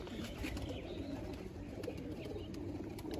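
Domestic pigeons coo continuously in a rooftop loft, low rolling calls blending into a faint, steady murmur with no voices.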